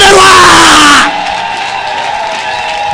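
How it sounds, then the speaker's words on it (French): Church crowd at a prophetic revival service cheering and applauding for about a second, loud and dense, then cutting to a sustained tone with a low murmur of voices underneath. "Applaudissez pour le roi des rois."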